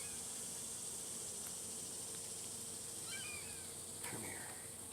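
Honeybees hum steadily around an open beehive during a hive inspection, a continuous close drone with a few brief higher whines as individual bees pass near.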